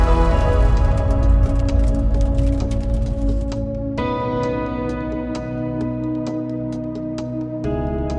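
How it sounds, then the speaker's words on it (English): Hail falling at an RV park in McCloud, a dense rattle of sharp ticks on hard surfaces that thins to scattered strikes, over a steady humming tone. "It just started hailing."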